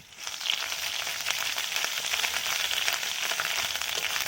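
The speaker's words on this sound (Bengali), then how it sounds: "ভালো করে নাড়াচাড়া করে দিচ্ছি আদা বাটাটা দিয়ে" Ginger paste frying and being stirred in a pan, a continuous close sizzle at an even level throughout, with no talking.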